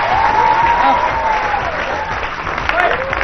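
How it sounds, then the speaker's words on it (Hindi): A studio audience on an India vs West Indies cricket discussion show claps loudly and steadily, with a voice talking over the applause throughout. "एक बार जोरदार तालियां बजा के बताओ कितनी तालियां बजा सकते हैं।"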